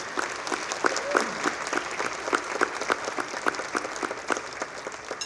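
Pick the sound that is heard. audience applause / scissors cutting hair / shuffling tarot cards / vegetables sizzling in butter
audience applause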